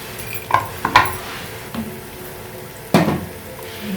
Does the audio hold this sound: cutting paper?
no